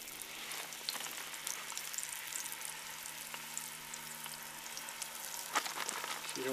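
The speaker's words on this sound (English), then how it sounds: "You can hear that sizzle hot" Chicken medallions sizzle in hot canola oil in a Dutch oven, a continuous crackling hiss with scattered pops, fairly quiet and close, without talk.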